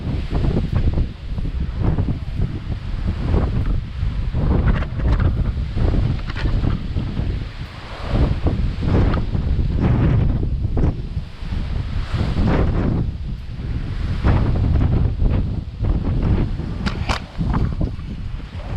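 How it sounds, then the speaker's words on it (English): Strong wind buffets the microphone continuously, a loud roaring rumble with gusty surges throughout. "it was really windy this day. So it was just crazy. It was like crazy wind"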